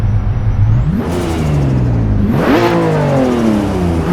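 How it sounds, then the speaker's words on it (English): A synthetic-sounding Assetto Corsa EVO video game car engine revs up and down in smooth sweeps from a modulating synthesizer, with a canned hissing turbo blow-off whoosh between shifts. "a modulating synthesizer engine combined with canned turbo blow-off noise"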